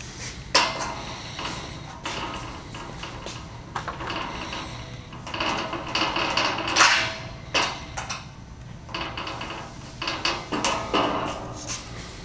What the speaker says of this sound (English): and you'll put your screws in like this.